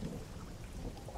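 In the fishing game DREDGE, a brief low rumble of thunder rolls under a steady hiss of rain, moderately loud and without talk.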